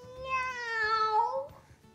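A cat meows from a tape recording: one long drawn-out meow of nearly two seconds with a clear harmonic tone that rises and then bends downward before it fades. It plays loud and alone, with no talk over it.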